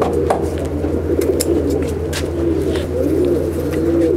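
Racing pigeons coo in a large Andhra triplar loft in Akra, West Bengal, soft repeated throaty calls overlapping over a constant low hum, with scattered wing flutters and chirps nearby.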